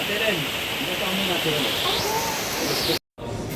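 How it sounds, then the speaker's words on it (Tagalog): Heavy rain during a typhoon in the Philippines, a dense steady roar of downpour on surfaces with someone talking over it, cut off briefly near the end. "lakas ng ulan oh"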